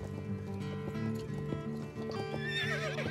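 In the Star Stable Online video game, a horse's hooves clip-clop steadily and close, with a shrill, wavering whinny rising near the end over quiet background music.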